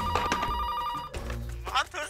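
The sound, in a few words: telephone ringing with an incoming call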